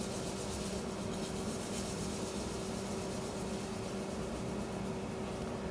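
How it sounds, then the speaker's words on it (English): Steady, continuous rubbing hiss of wet sanding with Scotch pads on wood spinning on a lathe, with a constant motor hum underneath and no talk. "I'm going to do some wet sanding."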